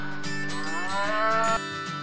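A cow moos once in a long, drawn-out low call with a rising and falling tone. It is close and loud and gives way to a brief quieter tail.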